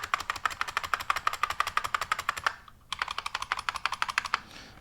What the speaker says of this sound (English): So this is called a buckling spring keyboard